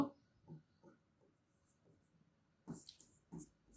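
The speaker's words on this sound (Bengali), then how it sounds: "আমি রুলসটা লিখি" Pen or marker writing grammar rules by hand during a lesson, faint scratchy strokes in short bursts with small pauses between them, quiet and close.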